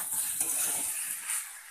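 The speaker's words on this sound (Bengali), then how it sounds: "দিয়ে আবারও একটু কষে নেব।" Fried ripe pumpkin stirred into spices in a pan with chickpeas and potato, giving a soft sizzle with light scraping and clinks of a spoon, close and steady.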